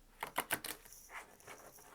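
A deck of guidance cards being shuffled by hand, a quick cluster of papery riffles and slaps in the first second, then softer rustling, close and fairly quiet.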